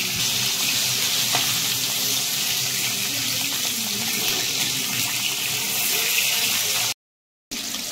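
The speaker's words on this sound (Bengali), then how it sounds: "হয়ে গেছে আমার ভাজা" Food deep-frying in hot oil during a Bengali home cooking session, a steady dense sizzle running throughout with brief stirring, cut by a short silent gap near the end.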